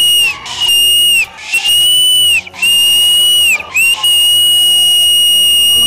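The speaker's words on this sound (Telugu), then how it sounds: "నా దగ్గర ఉంది విజిల్ ఒకటే." Whistle blown loudly several times on a TV dance show stage, long shrill blasts with brief gaps, loud and close.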